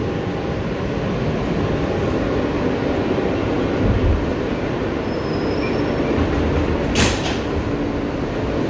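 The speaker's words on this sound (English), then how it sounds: "This is a Coney Island Stillwell Avenue bound Q local train." An R160B Siemens subway car runs on the Q local along the BMT Brighton Line in New York, toward Coney Island. A steady, loud rumble of wheels on track carries throughout, with a brief high squeal near the end.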